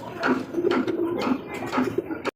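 Racing pigeons coo in a steady run of soft, low, throaty calls, close by and continuous for a couple of seconds, with a light rustle behind and no talking.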